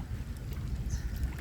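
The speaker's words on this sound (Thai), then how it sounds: "อันนี้ลม" Steady wind blowing across a large pond, a continuous low rumble buffeting the microphone with no pauses or voices.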